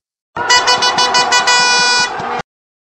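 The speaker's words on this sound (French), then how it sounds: "L'annonce se fait avec une alarme, par exemple avec un coup de klaxon du factionnaire." A lookout's loud air horn sounds as a warning of an approaching train during track work, a two-second blast with a stuttering pulsed start, heard close and alone.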